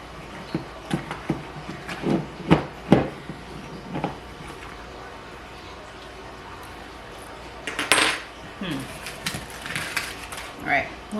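A utensil stirs ingredients in a bowl while healthy meals are being prepped, making intermittent clinks and scrapes with a quiet gap midway and a louder burst of clatter near the end.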